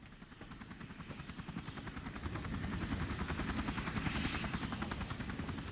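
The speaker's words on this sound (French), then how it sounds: "L'hélico est là." A helicopter arrives in Resident Evil 4 Remake, its rotor chopping in a fast steady pulse that grows louder and closer over several seconds, heard alone without talk.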